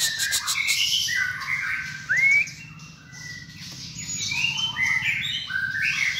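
A captive songbird, taken from the wild, sings a lively string of bright chirps, whistled notes and quick rising trills, close and loud, with no talking.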